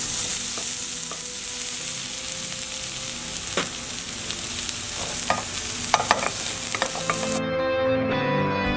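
Chopped garlic and shallots sizzle in olive oil in a pan while cooking risotto ai funghi, a steady close hiss broken by occasional sharp crackles and clinks of a utensil, then fading near the end.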